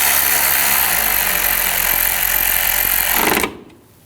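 A power tool runs continuously while bolts are snugged down on a BMW 328i 3.0L inline-six water pump, a loud buzzing whir that cuts off abruptly near the end.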